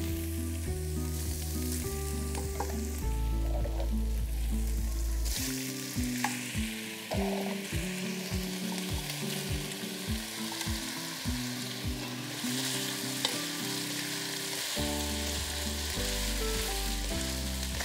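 Potatoes and onions stir-fry in cooking oil in a pan, a steady loud sizzle throughout with rhythmic scraping stirs and music playing underneath.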